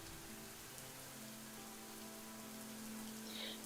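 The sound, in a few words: rain pattering against a tent in a video game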